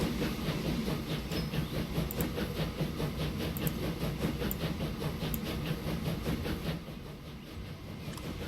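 Train rumbling steadily with rhythmic clickety-clack wheel beats in the video game Transport Fever, fairly loud and continuous, then easing slightly near the end as it slows toward a station stop.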